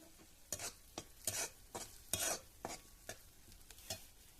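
Mushrooms sizzle in a kadhai of tempering while a spoon scrapes and stirs in repeated strokes, close and fairly quiet, with no talking.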